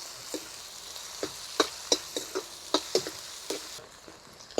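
Sliced onion with fennel seeds sautéing in a pan, a soft continuous sizzle broken by about a dozen light spatula scrapes and taps at an uneven rhythm, close and fairly quiet with no talk.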